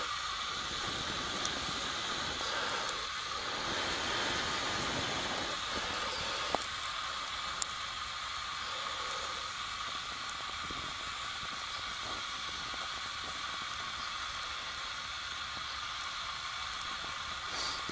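Steady breath blows into the fire of a small homemade hobo stove set with a Bundeswehr mess kit, giving a continuous close rushing hiss with faint crackles throughout.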